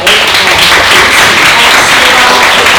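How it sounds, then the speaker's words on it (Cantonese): An audience applauds two student presenters at a school dialogue event, loud, dense and sustained clapping filling the whole stretch. "我哋首先不如俾多啲掌聲呢兩位"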